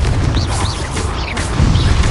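The Confringo fire-blast spell in Hogwarts Legacy, a loud booming burst with crackling, whooshing swirls over a dense rumbling roar, close and forceful, no talk.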